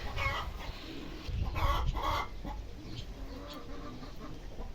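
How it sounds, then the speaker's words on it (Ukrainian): A rooster on a rural garden plot clucks in short bursts at middle distance, with brief higher calls, against a steady outdoor background; faint human voices are present. "Я так хотіла гарно зняти півня."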